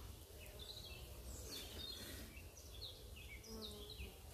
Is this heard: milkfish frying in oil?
no